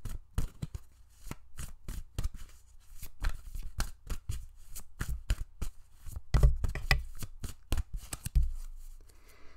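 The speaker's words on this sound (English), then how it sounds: "Let's pull some more cards." Tarot cards being shuffled and pulled, a rapid series of close, crisp riffling snaps and slaps with short pauses between bursts, heard alone without talk.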